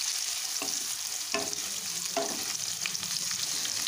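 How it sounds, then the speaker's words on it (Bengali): Okra is stirred and fried in a pan over low to medium gas flame, producing a steady loud sizzle with a few sharp spatula scrapes against the pan. "এখন ভেন্ডিগুলো ছেড়ে দিলাম, দিয়ে এবার ভেন্ডিগুলোকে নাড়াচাড়া করে ভেজে নিচ্ছি।"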